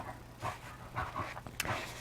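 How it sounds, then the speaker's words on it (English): A dog pants and makes small snuffling noises while chewing on its own ears after eating, quick breathy bursts close by and fairly faint. "You might hear my dog Jack in the background"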